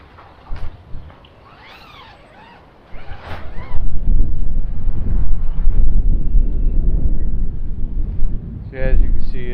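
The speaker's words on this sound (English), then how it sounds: "anytime I get out here and film, it's windy" Wind buffets an outdoor microphone with loud low rumbling gusts through most of the stretch, after a quieter opening with brief voice-like calls.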